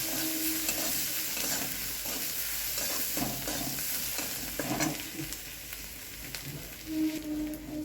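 Onion and garlic fry in a pan for an aubergine mash while a utensil stirs them, producing a soft continuous sizzle with repeated scraping and clinking strokes, close but moderately quiet, with no voices.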